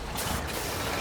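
A truck backing up in the video game SnowRunner gives a loud, steady air-brake hiss over a dense mechanical rumble that fills the whole second.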